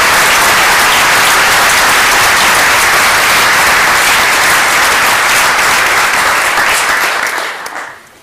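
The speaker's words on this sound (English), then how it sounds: "now you can give them a round of applause" Sustained, loud applause from a luncheon audience honoring faculty and staff at an international affairs senior event, steady dense clapping for about eight seconds before fading out at the end.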